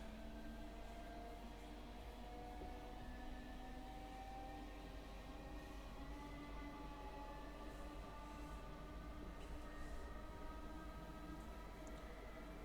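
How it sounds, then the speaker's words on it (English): A ČD 163 electric locomotive runs in Train Simulator 2021 between Česká Třebová and Pardubice, giving a steady whining hum with several sustained tonal lines over continuous rolling noise. "These are just wonderful locos. And the sound they make is pretty amazing too."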